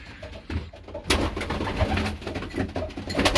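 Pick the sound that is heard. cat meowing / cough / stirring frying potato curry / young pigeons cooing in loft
young pigeons cooing in loft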